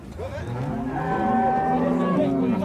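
A dairy cow at a livestock fair in Capoeiras, Pernambuco, gives one long, loud, drawn-out moo that rises and holds for over two seconds, close by and with no talk over it.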